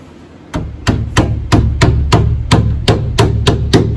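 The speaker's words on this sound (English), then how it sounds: "And so we pound the FASTenon." A FASTenon tenon is hammered into a domino-drilled wooden mortise with about a dozen loud, evenly spaced hammer blows at a steady rhythm, each a crisp woody thud, with no talk.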